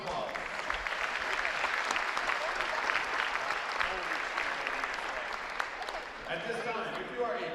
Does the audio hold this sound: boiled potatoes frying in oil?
no